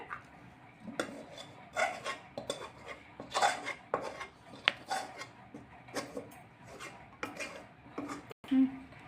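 Metal utensil scraping and tapping against a plate as warm coconut sandesh mixture is spread out for Lakshmi Puja sweets, with irregular close scrapes and clinks and a faint room background.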